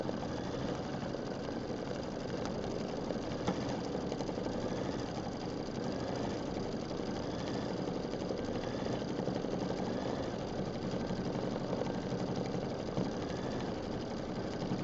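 A longarm quilting machine stitches a decorative star and small-square fill pattern across a quilt, giving a steady, continuous mechanical hum and rapid whirring at even volume throughout.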